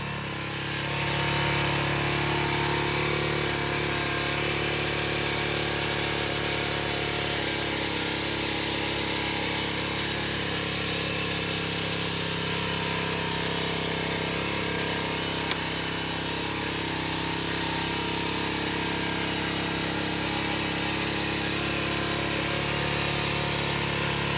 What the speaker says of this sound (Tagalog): Okay ba yung ating grass cutter?